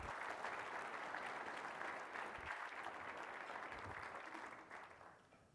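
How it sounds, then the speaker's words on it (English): Sustained audience applause at a water policy forum and dinner, dense and steady clapping from a large room that fades out near the end. "So let's give her another round of applause."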